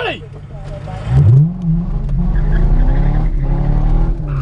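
An autocross car in a five-car Finch event launches hard with a loud engine rev and brief tire squeal, then drones on steadily at high revs as it accelerates, with music and voices underneath.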